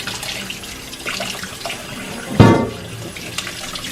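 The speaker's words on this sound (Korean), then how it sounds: "잠깐 물에 담가둔 다음에 하나하나씩, 특히 여기 뿌리 부분만 살짝씩 부드러운 솔로 문대주시면 깨끗하게 되죠?" Water runs and splashes while ponytail radishes are washed and their roots scrubbed with a soft brush, a soft continuous trickle with one brief louder splash midway.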